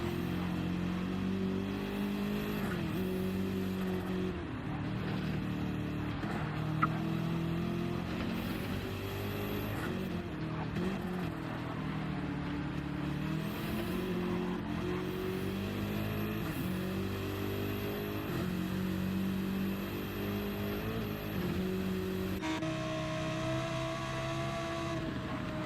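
A Clockwork Motorsport Ferrari 296 GT race car, number 57, racing in a 24-hour endurance event at the Nürburgring, engine note sustained and rising and falling through gear changes, with other race cars passing at a moderate distance.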